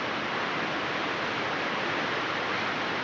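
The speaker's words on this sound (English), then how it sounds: "The roar you hear is 3 waterfalls," Steady broadband roar of three waterfalls in a canyon just outside Valdez, Alaska, a dense continuous rushing wash with no breaks and no voices.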